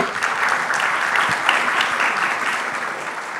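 Lively audience applause at a brunch event in a school hall, a steady dense patter of clapping hands throughout, fairly close and without pause.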